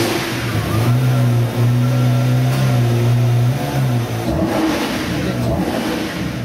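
A Lamborghini accelerates on a drive, its loud engine note climbing steadily for about four seconds before shifting into a rougher, churning roar. No one speaks.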